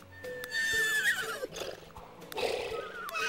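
A horse whinnies in The Sims 3, a long high neigh followed by softer snorts and shorter whinnies, close and clear over faint game ambience with no talking.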